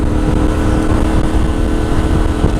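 A CF Moto 450MT motorcycle pulls away gently after slowing in third gear, its engine a steady low drone close to the microphone, mixed with constant wind rush and no talking.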